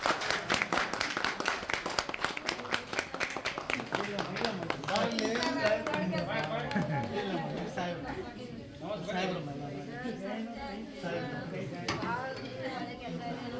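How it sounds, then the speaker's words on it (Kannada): A crowd claps in fast, crisp applause that is dense at first and then thins into scattered claps, mixed with voices chattering in the room around it. "ಚಪ್ಪಾಳೆ."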